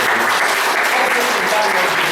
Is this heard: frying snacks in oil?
no